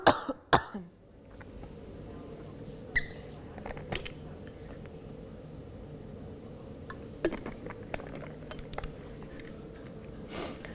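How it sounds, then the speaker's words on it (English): Several sharp coughs close by at the start, then a quieter stretch of low room noise broken by occasional soft clicks and a few more short coughs. "I'm going to cough again."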